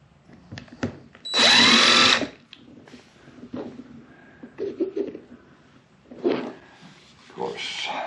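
A power drill bores a hole during a solar generator build, its whine running steady and loud for about a second, with clicks and handling noises before and after. Someone talks quietly in short bursts in between.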